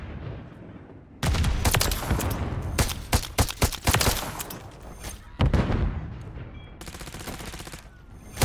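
Gunfire in Modern Warfare 3: rapid volleys of close, loud shots in clustered bursts with short pauses between them, mostly on their own with little talk over the top.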